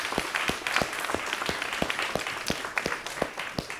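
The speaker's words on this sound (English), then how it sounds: "I think she deserves another round of applause." A conference audience at LiveTech 2013 claps for a presenter, with a few distinct hand claps standing out in a fairly regular rhythm over a thin, moderately quiet patter of applause.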